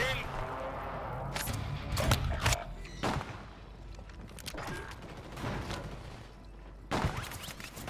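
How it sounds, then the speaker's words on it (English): Enemy players fire guns in an online squad shooter video game: scattered sharp shots and short bursts, fairly faint and spread over several seconds, with players talking throughout. "Oh, they're shooting again."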